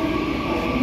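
A TRA passenger train in Taiwan gives off a steady, loud rumble with a sustained tonal hum, heard close without any talk.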